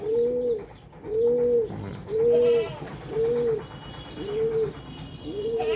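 Repeated soft, low cooing from a pigeon nearby, about six even calls in a steady rhythm, with faint background noise.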